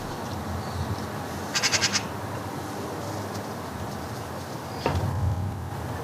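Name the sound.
baby magpie squeaking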